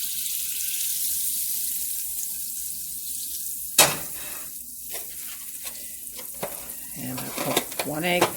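Butter melting in a frying pan over lowered heat before eggs go in, a soft steady sizzle giving way to a sharper crackle with clinks and stirring noises, close by with no talking.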